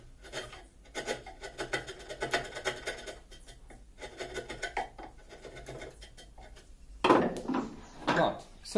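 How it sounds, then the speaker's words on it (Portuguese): A sharp wood chisel pares and scrapes at a reclining chair leg in a woodworking shop, producing repeated close rasping strokes in short bursts, followed by a louder rubbing scrape near the end. "Um formão bem afiado, claro que toda a marcenaria vai ter."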